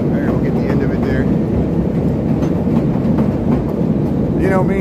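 An elevated train rumbles directly overhead on Chicago's tracks at Lincoln, a loud sustained roar with rattling wheels and squealing metal close by, while someone talks over it.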